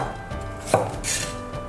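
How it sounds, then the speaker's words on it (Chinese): A knife chops ginger into chunks on a board, giving one sharp clear strike and a few softer taps over a low background hum, with no talking. "现在切些料头，姜切块"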